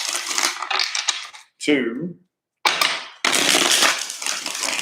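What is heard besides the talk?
shuffling tarot cards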